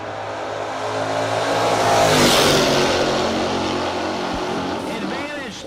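A Camaro launches down a drag strip in a no-box race, its engine roar swelling to a peak and then easing as it passes, with an announcer talking over the sound.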